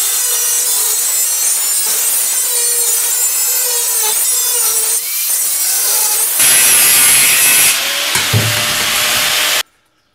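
Scrap metal being cut for a homemade waste oil stove, a harsh, continuous grinding and sawing close by, shifting in pitch as the cut progresses, then stopping abruptly.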